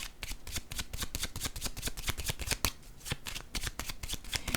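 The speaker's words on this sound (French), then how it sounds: "Je vais tout de même déposer une carte par curiosité sur choix." Tarot cards are handled and shuffled in a rapid, continuous run of crisp flicks and slaps, close and fairly loud throughout with no talking.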